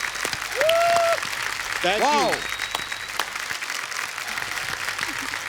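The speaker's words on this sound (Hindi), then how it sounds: "एक बार जोरदार तालियां हो जाए" A studio audience on a comedy program claps after a guest introduction, with the applause running under an exclamation and playful sung or swooping vocal sounds before it settles into lighter background clapping.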